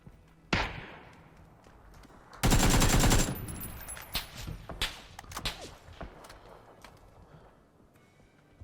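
Sharp gunshots crack out in the video game PUBG, then a dense burst of rapid automatic fire, followed by scattered single shots that thin out toward the end.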